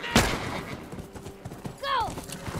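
A single sharp gunshot rings out in The Last of Us Remastered, followed by shuffling sounds and a horse's whinny, while a voice talks.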